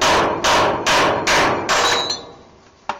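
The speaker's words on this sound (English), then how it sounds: "2-pound crossbeam hammer. Just happened to be what I grabbed." A two-pound crossbeam hammer drives a cold chisel against a rivet on a 1946 Ford truck frame, five loud, evenly spaced metallic blows followed by a ringing tone and one lighter final tap.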